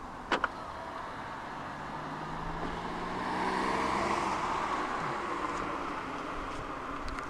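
All four power windows of a 2016 Volvo V60 2.0 D4 SE Lux Nav rolling up together: a couple of faint clicks, then a soft, quiet motor whir that swells and holds steady.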